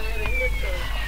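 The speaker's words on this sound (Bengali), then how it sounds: "ভাই ট্রেনে ফায়ার অ্যালার্ম অ্যাক্টিভেট হয়ে গেছে," Fire alarm sounding aboard a stopped Indian passenger express train at a station platform, a steady electronic tone with a faint gliding pitch running throughout, loud and continuous, with people talking around it.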